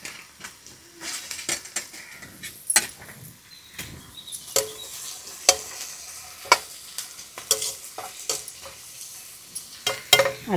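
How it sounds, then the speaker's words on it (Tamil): Onions sautéing in a pan in a home kitchen, a soft sizzle under repeated sharp scrapes and clinks of a spoon stirring against the metal at an uneven rhythm. "ஓ என்ன வெங்காயம்லாம் வதங்கிட்டா? நல்லா வதங்கிடுச்சு."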